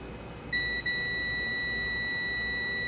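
Poco X3 phone circuit board with an internal short emitting a steady electronic beep, a clear two-tone high pitched tone starting abruptly, briefly dipping, then holding continuously over faint background hiss.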